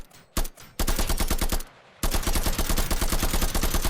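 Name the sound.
gunshots in a video game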